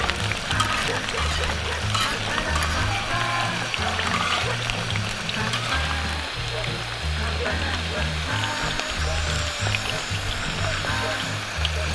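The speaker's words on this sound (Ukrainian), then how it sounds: "поки у нас картопелька жариться" Potatoes frying in a pan outdoors give off a steady, dense crackling sizzle that runs unbroken throughout, with low rhythmic background sounds underneath.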